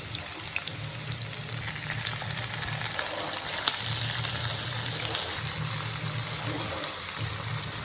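Squid frying in a pan for adobong pusit makes a steady, close hiss and crackle that runs continuously without pause and with no talking over it.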